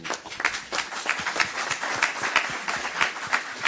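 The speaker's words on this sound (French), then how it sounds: "On l'applaudit aussi." A small group applauding at a radiology symposium panel, with steady, dense clapping that carries on throughout at moderate volume.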